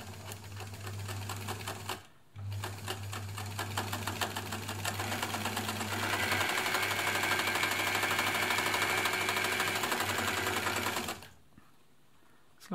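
A classic ELNA Supermatic sewing machine stitches steadily at close range, its fast, even mechanical chatter running continuously apart from a brief pause early on, then stopping near the end.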